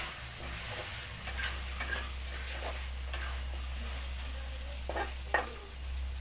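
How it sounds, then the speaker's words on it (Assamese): Potatoes are stirred in a pot of sizzling Assamese pork curry: a steady fry hiss with occasional scraping knocks of the spoon against the pot. "অলপ লাৰি দিওঁ।"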